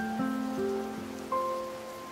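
Soft, steady rainfall hisses beneath a series of chiming electronic tones that step up and down in pitch, in the video game Tower of Fantasy.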